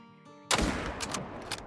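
A single sharp rifle shot rings out across a wide open valley during a mule deer hunt, cracking loudly after a quiet moment and trailing off in a rumbling echo.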